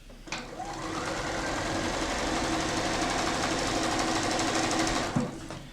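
A sewing machine runs close and steady while stitching quilt blocks, a fast even whirring hum that lasts about five seconds, starting and stopping with small clicks and no talking.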